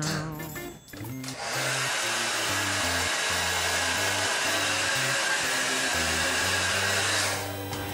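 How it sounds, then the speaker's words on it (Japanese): A hair dryer blowing steadily while drying hair, a loud continuous whooshing roar that starts after a brief rustle and runs close to the microphone until near the end. "髪乾かす時は前の方にした方がいいんだって"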